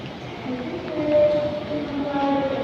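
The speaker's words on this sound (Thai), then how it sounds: "นี่นะครับรถไฟฟ้าเข้าเมืองนะครับ" An Airport Rail Link train arrives at Suvarnabhumi station with a low rumble and a faint, rising wheel-and-rail squeal, heard at a moderate distance in an echoing station for just a few seconds.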